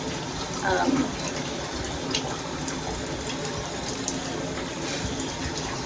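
Water runs steadily from a poorly lit home shower, a continuous splashing hiss throughout, with a faint voice briefly heard near the start.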